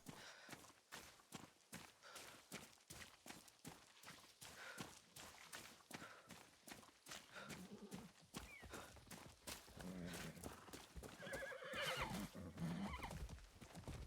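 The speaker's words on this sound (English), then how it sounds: "Bunch of horses." Several horses whinny and neigh over a steady clip-clop of hooves in Far Cry 6, with the neighs growing louder and busier toward the end.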